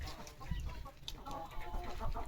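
Newly brought chickens on a poultry farm, with chicks kept nearby, cluck and chatter in a steady, moderately loud flock murmur that continues throughout.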